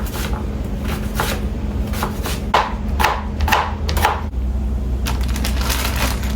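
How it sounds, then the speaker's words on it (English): A knife cuts sweet potatoes into cubes on a cutting board, giving a series of crisp chopping taps and crunchy slices. They come irregularly, then in a steadier run near the middle, close up against a low background hum. "So right now I'm gonna go ahead and cut them into cubes so that I can cook them later"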